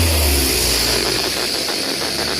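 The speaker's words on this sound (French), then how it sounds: "Le véhicule qu'on entend passer d'ailleurs." A car rolls past in a village, its engine rumble loud and close with steady broadband road noise that eases slightly as it moves on, no voices over it.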